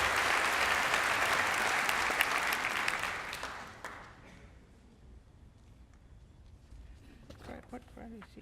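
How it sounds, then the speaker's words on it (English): A school district convocation audience claps in a full, steady round of applause that fades out over several seconds into a quiet hall with scattered faint voices and small noises. "A round of applause for all that hard work."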